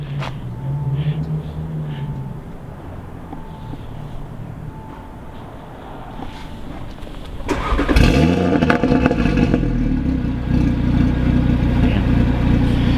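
Audi RS3 tuned to 650 wheel horsepower, heard through its twin exhausts as the engine cranks and fires with a sudden loud bark, then settles into a deep, rumbling idle, with faint talk before the start.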